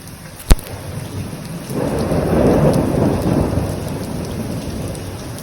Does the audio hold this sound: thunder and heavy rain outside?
yes